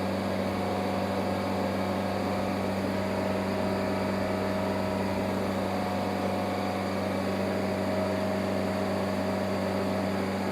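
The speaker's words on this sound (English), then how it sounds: "I'm going to go full throttle and work the hydraulics all the way in forward and reverse." A mini skid steer engine running at full throttle while the hydraulics are worked, a loud steady drone with a constant low hum and unwavering tone throughout, close by and with no speech.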